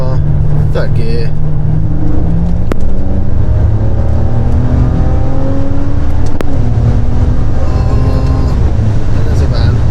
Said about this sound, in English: Right, 40 miles per hour, 3rd gear